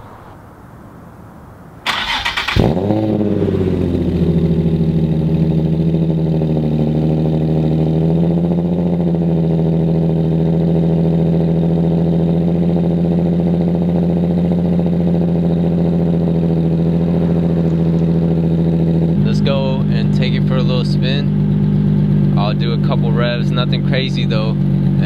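Nissan 350Z fitted with a Tomei Y-pipe cranks briefly and fires up, then settles into a loud, steady, rumbling idle that continues close by, with voices talking over it near the end.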